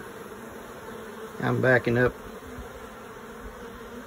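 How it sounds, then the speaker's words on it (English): Honey bees swarm around a long hive during a nuc install, a dense steady buzz filling the air nearby while someone speaks briefly midway. "100 bees standing here talking"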